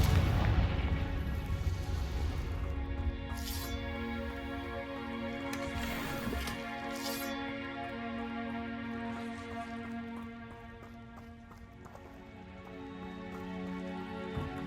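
Confringo fire spell explosions in Hogwarts Legacy: a few sharp blasts burst near the middle of the clip over a continuous musical game score.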